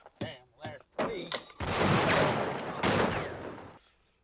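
Gunfire in a Wild West shootout involving Billy the Kid, a few sharp separate shots followed by a long, loud burst of rapid overlapping fire, heard after a short stretch of voices.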